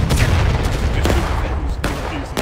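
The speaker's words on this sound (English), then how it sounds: "Fire at will, boys." Musket volleys in War of Rights, loud overlapping shots cracking out in bursts with sharp reports near 1 and 1.8 seconds amid a continuous roar of battlefield fire.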